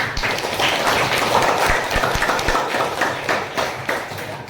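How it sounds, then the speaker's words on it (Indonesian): Classroom students clapping for a group after its presentation on Borobudur Temple, a brisk, fairly close burst of uneven hand claps with some knocks and shuffling mixed in. "Jadi tepuk tangan dulu untuk kelompok 1."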